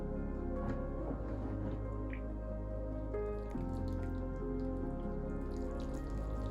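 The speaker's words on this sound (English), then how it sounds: "my assistant now is going to just gently water these seeds" Newly sown seeds are gently watered indoors, giving soft, steady dripping and trickling under a low background hum.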